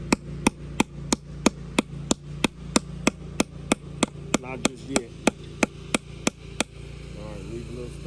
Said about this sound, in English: Gotta hammer the staple in.